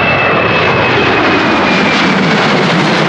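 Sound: jet airliner flying overhead

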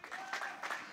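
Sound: congregation clapping in church

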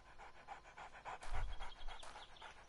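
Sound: pet dog panting, from the video game 7 Days to Die

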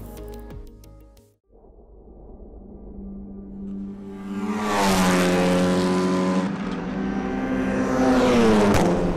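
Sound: Honda Civic Type R TCR race car engine

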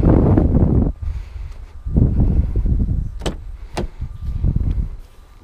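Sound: getting into 2017 Ford Mustang GT convertible, door

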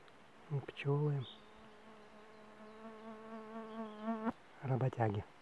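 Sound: small forest bees buzzing

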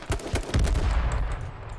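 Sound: gunfire in H1Z1 video game

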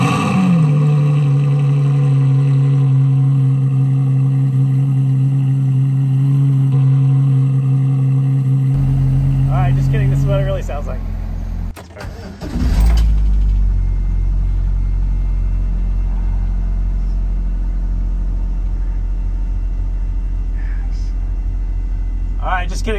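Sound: 1997 Lotus Elise S1 engine starting and running

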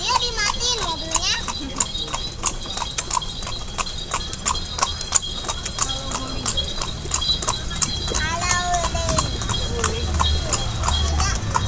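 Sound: horse hooves clip-clopping while riding a horse

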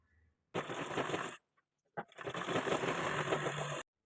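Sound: sewing machine stitching a strip onto a blouse

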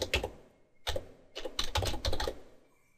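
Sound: typing on a computer keyboard

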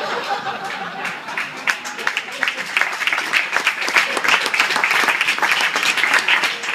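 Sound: dinner guests applauding

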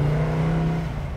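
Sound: 1968 Ford Mustang Bullitt exhaust revving

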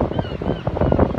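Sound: strong wind on the seafront at Brighton

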